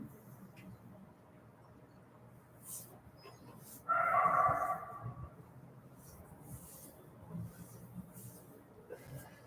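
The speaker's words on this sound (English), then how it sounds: "Look, we got a dog barking out there." A dog barks outdoors at a distance, one short burst of barking rising above a low, steady ambient background.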